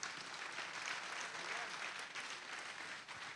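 Audience applause at a Cambridge High School graduation ceremony, honoring the Dacosta sports team: a dense, steady wash of clapping from a crowd, fairly far off and sustained throughout.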